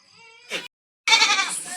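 Goats bleat nearby in the morning, a wavering call followed after a short gap by a louder, longer bleat.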